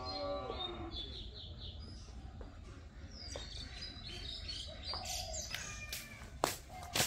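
A cow lets out a low, drawn-out moo near the start on a village farm in the morning, while birds chirp and tweet around it and a few sharp knocks sound near the end.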